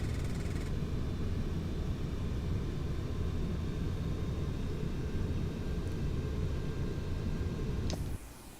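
A Boeing 747 at full power in FSX, a steady broad engine roar with rumbling low end and thin whining tones, constant throughout before dropping slightly near the end, with no talk.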